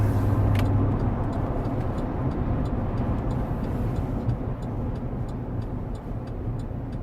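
A 2011 LTZ car slows down and brakes while driving, with a steady road and engine rumble inside the cabin and light ticking over it, the noise easing slightly toward the end.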